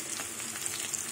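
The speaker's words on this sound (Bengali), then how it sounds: "এবার পেঁয়াজটা ভাজবো কিছুক্ষণ" Onions sizzle and crackle steadily in a hot pan, a short, close, continuous frying hiss with no talk.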